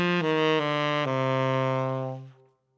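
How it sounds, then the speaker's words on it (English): A C harmonic minor scale is played as a short run of clear, sustained pitched notes moving in quick steps, then a final held tone fading out, heard alone and close. "C harmonic minor sounds like this."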